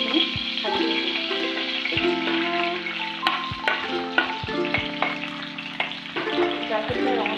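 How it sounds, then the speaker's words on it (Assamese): Dry fruits frying in hot ghee in a wok, a crackling sizzle with spoon scrapes and clinks against the pan. A soft tonal hum runs underneath. "ঘিউখিনি গৰম হ'লে ড্ৰাই ফ্ৰুটখিনি ঢালিখিনি ভাজি দিছোঁ"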